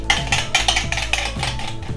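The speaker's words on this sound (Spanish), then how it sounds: "Y lo vamos a mezclar todo muy bien." Yogurt sauce with chopped cilantro stirred in a bowl, close and fairly loud, with repeated scraping clinks of a utensil against the dish in a steady rhythm.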